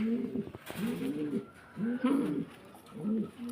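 Mundian pigeons at a pigeon farm coo in four close, rounded phrases that repeat at a steady rhythm over quiet background noise.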